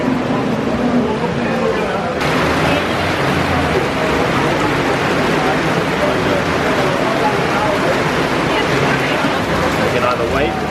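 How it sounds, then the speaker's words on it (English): Steady rain falls outdoors in Bali, a loud continuous wash of drops and patter that fills the whole scene without a break. "We literally just got here and it started raining."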